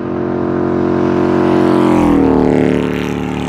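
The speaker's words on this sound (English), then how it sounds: "Some loud motorcycles through here." Loud motorcycles pass along a road near a bypass, a close engine roar whose pitch slides down as they go by, filling the whole few seconds on their own.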